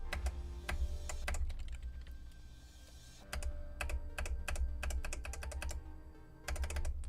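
Keyboard keys click in short bursts and single taps, crisp and close, with pauses between clusters and a low hum underneath.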